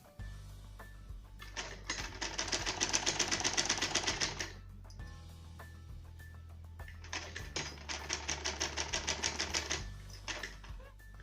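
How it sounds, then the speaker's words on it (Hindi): A sewing machine stitches a fall onto a net saree in two long runs of rapid, even mechanical rattling, separated by a short pause, with the motor hum steady underneath and no talk. "फिर से इस तरह से सिलाई चलाते हुए मैं यहाँ तक बैक आ जाऊँगी।"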